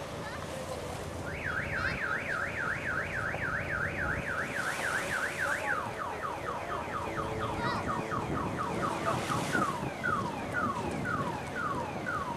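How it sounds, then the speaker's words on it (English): A car alarm blares on a San Francisco street, cycling loudly through rapid warbling whoops and then quick repeated chirping sweeps, continuous and close over faint traffic background. "That alarm can get old very quickly."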